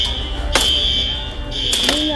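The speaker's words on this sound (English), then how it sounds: "Let's go to the fire alarm and see what happened." A store fire alarm sounds steadily as a high continuous electronic tone, loud and close, broken by two brief bursts of voices or noise.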